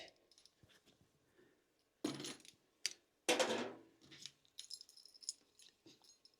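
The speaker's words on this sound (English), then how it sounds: "Let's get these keys off first of all." Keys being removed from an OMTech Turbo 747 70-watt laser engraving machine give a few short, bright metallic clinks and jangles in scattered bursts, close by and fairly loud, with quiet pauses between them.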